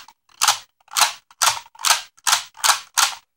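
Seven sharp, loud clicks at an even pace, each a crisp ratcheting snap from a Decadriver toy transformation belt, with brief silence between them and no voices.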